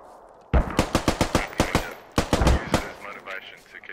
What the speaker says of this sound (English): I need more shooting to start happening now